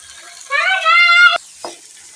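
Soaked chana dal and onion fry in a pan while being stirred, giving a brief burst of sizzling and a scrape of the spoon that lasts under a second, with a faint tonal sound over it.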